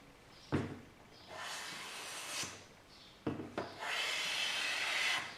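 A hand plane is pushed across a flat wooden surface in two long shaving strokes. Each stroke opens with a sharp catch and then a sustained, close, rasping hiss. Nothing else is heard.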